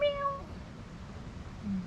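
A cat gives a single short meow at the start, then only quiet background noise follows.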